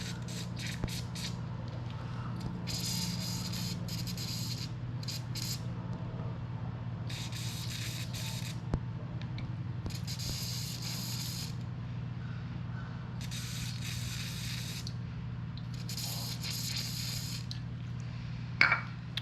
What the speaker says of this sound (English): And let's spray these plugs.